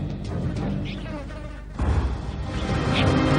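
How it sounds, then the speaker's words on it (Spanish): Fruit flies and blowflies buzzing around rotting, overripe fruit, a close, steady drone with wingbeats rising and falling as insects pass near, continuous throughout. "El olor de la fermentación de la fruta demasiado madura atrae a las moscas de la fruta."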